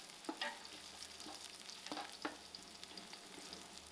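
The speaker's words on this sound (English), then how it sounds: "Allow this cinnamon to fry" A cinnamon stick frying with soft onions in a pot over an outdoor fire, a faint, constant crackling sizzle with a few light scrapes of stirring, with no one talking.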